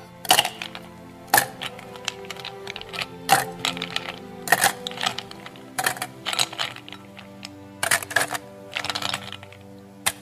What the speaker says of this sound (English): now I would like you to fill that glass with ice cubes